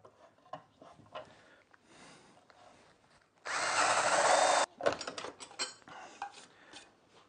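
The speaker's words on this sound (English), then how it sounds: "turn it over and put the drill in this side and drill it out" A power drill whirs steadily for about a second, boring a hole through wood for a fishing rod rack, with clattering and handling noises of tools before and after.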